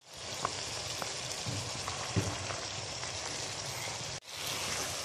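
Potatoes for an aloo mongray dish fry in a hot pan with a steady, dense sizzle and crackle throughout, close and even, with a brief dip near the end.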